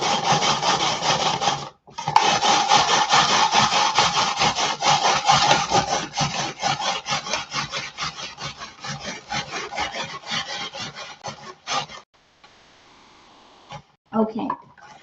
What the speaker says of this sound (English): Let's get grating it. I need a cup of grated carrot.